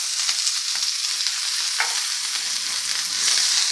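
Green chillies and garlic roast in a little oil, giving a steady bright hiss of sizzling with faint scraping stirs now and then, continuous and close without any voices.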